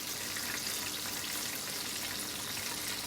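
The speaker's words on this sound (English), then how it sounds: "I'm in the kitchen tonight frying a little chicken." Chicken fries in hot oil in a home kitchen, a steady close crackling sizzle with fine popping spatter and no voices.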